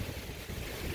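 Strong wind gusts buffet the microphone on a rocky mountain trail switchback, a loud, rumbling, continuous roar with no voices.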